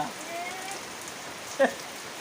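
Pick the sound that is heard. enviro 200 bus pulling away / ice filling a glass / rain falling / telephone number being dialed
rain falling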